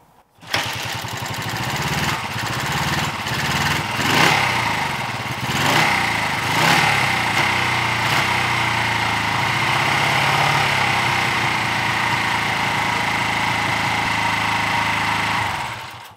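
Honda CB 125 Twin motorcycle with newly fitted reproduction carburettors and chokes fully on, cranking briefly and catching, then idling loud and steady indoors in a garage for the rest of the clip.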